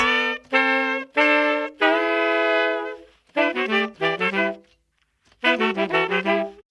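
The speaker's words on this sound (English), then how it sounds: "Now the horns alone, without any bass, sound like this." Brass instruments play sustained chords in short phrases, with a long held chord and brief pauses between bursts, no low bass underneath.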